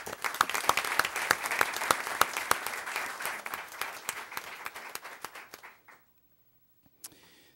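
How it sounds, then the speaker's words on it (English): An audience at a school board meeting gives a round of applause, loud individual claps close by over a dense crowd, fading out abruptly near the end before a lone clap. "Let's have a round of applause."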